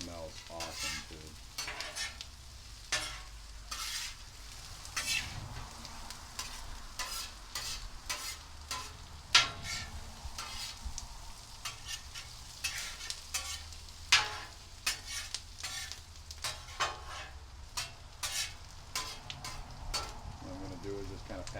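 Breakfast hash with garlic cooks in a pan, a low continuous sizzle broken by frequent sharp scrapes and clicks of a utensil stirring and pushing the food around, close and moderately quiet.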